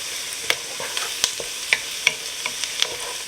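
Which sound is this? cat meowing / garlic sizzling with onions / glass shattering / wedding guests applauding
garlic sizzling with onions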